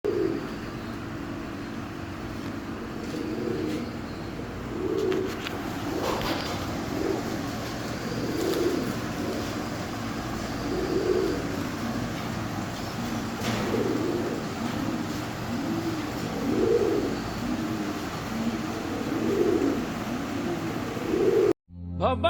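Fancy pigeons coo in a repeating series of soft, throaty calls close by, with several birds sounding in turn over a quiet background, ending abruptly.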